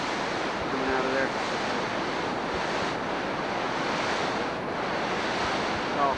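Turbulent water rushes out of an outlet in a steady, loud, broadband roar that never lets up, with wind buffeting the microphone and a faint voice low beneath it.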